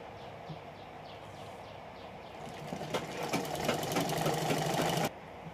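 Sewing machine stitching a collar strip onto a suit, starting with a few slow stitches and then running in a steady fast whir for about two seconds before stopping abruptly.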